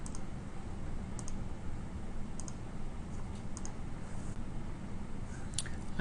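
Sharp computer mouse clicks, about eight of them at irregular intervals, sound as column headers are clicked in an early warning system data view, each click close and crisp over a steady low hum.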